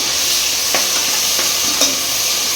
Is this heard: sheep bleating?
no